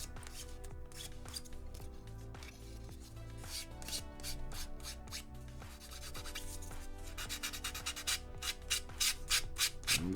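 Fine, high-grit sandpaper rubs back and forth by hand across a Corvette body panel in quick, uneven strokes, a soft close-up scratching that grows a little busier toward the end.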